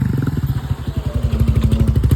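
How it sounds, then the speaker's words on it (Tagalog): A motorcycle engine runs close by at a steady idle, its low pulsing thrum clattering in a fast, even rhythm throughout with no voices. "So atong driver dito Cyrus Alar, kuha siyang motoron"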